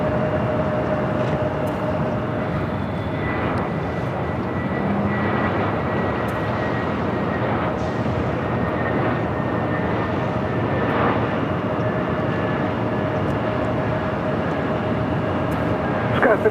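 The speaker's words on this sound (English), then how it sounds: "Spirit Airlines Flight 386 coming in from Newark." A Spirit Airlines Airbus A320neo arriving at LAX from Newark, a steady, distant jet roar that holds level the whole time, with faint radio chatter and talk layered over it.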